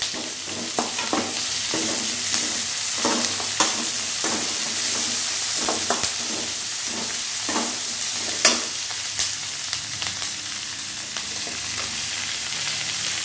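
Tomatoes fry in a hot pan for a potato masala served with poori, a steady crackling sizzle running throughout with repeated scraping strokes of a spoon stirring them, close and clear, with no talking.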